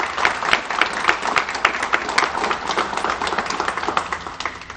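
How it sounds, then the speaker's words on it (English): Dense, steady applause and clapping fill a ribbon-cutting ceremony for a car dealership, with an indoor crowd clapping continuously at fairly close range. "they deserve a round of applause"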